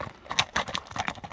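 A large horse's hooves clip-clop in quick, uneven strikes at a horse race gathering, close and moderately loud over a brief stretch.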